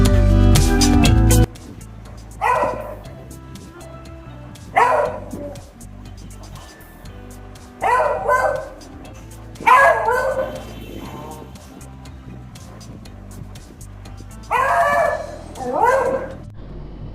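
A dog barks angrily in about half a dozen separate bursts of sharp, loud yapping, spaced a second or two apart, with quieter gaps between them.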